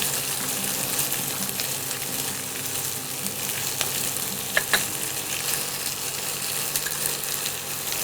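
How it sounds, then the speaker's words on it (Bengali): Rohu fish mixture fries in a pan for a classic Bengali dish, a steady bright sizzle running throughout with a couple of sharp scrapes from stirring, close and alone with no talk. "একটু নাড়িয়ে নিই।"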